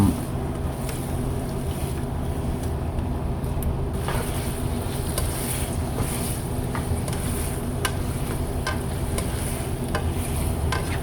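Pork simmers and is stirred in seasoned water in a pan, a constant bubbling hiss broken by repeated scraping strokes and light clinks of the utensil.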